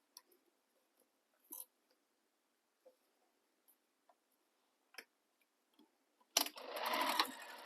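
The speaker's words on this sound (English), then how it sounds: "stitch the end of that cording to the edge so that it's in the center" Sparse clicks and taps of handling are followed by a sewing machine starting up, stitching cording to the edge of fabric for a sling bag with a close, steady rapid whir.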